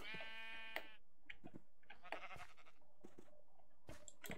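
Sheep bleating in Minecraft, a wavering game-animal bleat up front followed by scattered clicks and short in-game sound effects.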